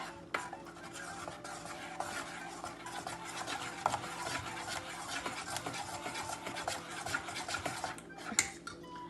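Kinnathappam batter with a little cumin being stirred in a bowl, a steady scraping and swishing that runs continuously and close by, with faint clinks of the utensil against the bowl.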